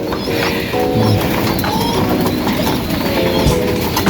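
Racing pigeons in a loft coo softly and repeatedly over a steady background hum, several birds calling close by without any talking.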